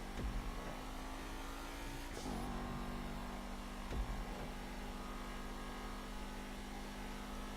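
A race car at Chaparral Speedway drives at full throttle up a hill, its engine holding a steady, droning pitch with a brief shift or bump midway, heard continuously from inside the car with no talking.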